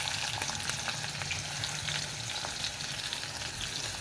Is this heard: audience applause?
no